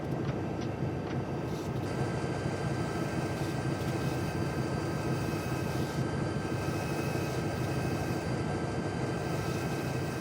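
Steady drone of a WP GP20 diesel locomotive in Train Simulator on Donner Pass with its dynamic brake engaged, a continuous loud rumble and whine holding level throughout.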